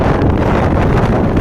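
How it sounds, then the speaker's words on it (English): Strong wind near a tornado roars steadily and loudly, buffeting the microphone with dense broadband noise throughout. "It's all hella windy out here."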